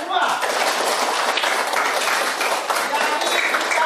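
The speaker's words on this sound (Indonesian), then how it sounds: "Jadi insinyur, tepuk tangan semua." A group in a classroom coaching session claps together in dense, steady applause that fills the full four seconds at an even, close level.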